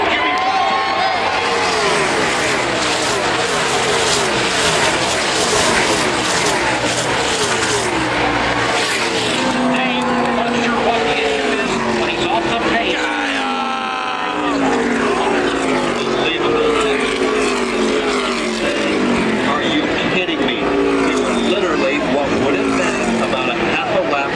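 NASCAR stock cars at the 2016 Auto Club 400 in California roar past nearly three wide, a dense continuous engine howl with rising and falling pitch sweeps as the pack passes, loud and close from the stands with a race announcer talking over it.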